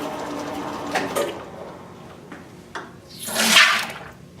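Pressurized liquid bursts out of an air pump as its pressure is released, a loud broad spray and hiss peaking near the end after a few smaller puffs and clicks.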